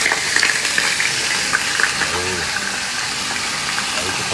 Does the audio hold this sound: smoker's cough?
no